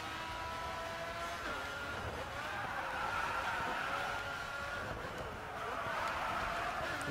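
A Pagani Zonda Revolucion in the racing game GRID 2 brakes hard into a corner, its engine whining under sustained tire squeal and skidding that stretch on for several seconds at moderate volume, no voices present.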